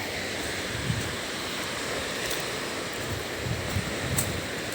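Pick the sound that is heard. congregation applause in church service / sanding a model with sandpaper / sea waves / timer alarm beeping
sea waves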